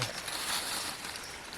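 Running stream at night in a cold northern Thai forest, a steady broadband rush of flowing water, close and continuous with no break.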